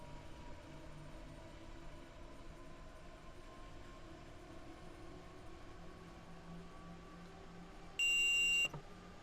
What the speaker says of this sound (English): Wish there was a mod that actually replaces the damn buzzer, the real annoying CIFA sound in this train